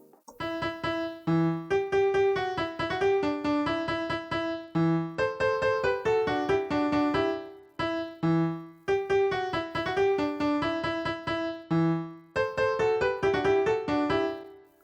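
A bright synth lead plays a quick, staccato drop melody of plucky notes in an electronic track, repeating the phrase twice with short gaps and no voices.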